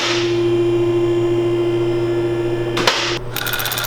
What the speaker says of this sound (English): just tightening up these bottom bolts